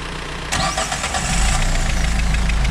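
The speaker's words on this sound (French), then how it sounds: "Et tu me le redémarres direct pour voir." A car engine fitted after an engine swap cranks and catches at once, settling into a steady, rough idle that lingers close and loud with a faint knocking rhythm.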